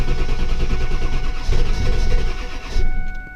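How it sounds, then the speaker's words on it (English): Ford 7.3 diesel truck engine cranking continuously without starting, a loud rhythmic starter churn with a steady electronic beep running underneath. "it will just crank and crank and crank and never start"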